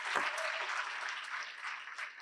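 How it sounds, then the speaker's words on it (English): An audience at a live-streamed event gives a short round of applause, a dense wash of clapping from a moderate-sized crowd that holds steady for about two seconds. "Give her a round of applause."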